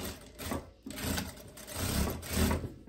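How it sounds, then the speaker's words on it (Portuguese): A sewing machine runs quietly and steadily as it stitches a seam on a linen dress, a soft mechanical whirr with small rhythmic variations. "agora eu vou refazer essa costura aqui, ó, e tombando essa costura aqui"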